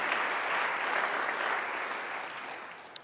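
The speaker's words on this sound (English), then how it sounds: "I think that's worthy of a round of applause right there" Steady audience applause at a university lecture hall, dense and sustained across the whole stretch, fading slightly toward the end with one sharp clap near the close.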